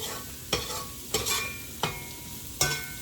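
Garlic, shrimp and spinach browning in a hot pan: a continuous soft sizzle broken by four evenly spaced scraping stirs, close and alone without talk.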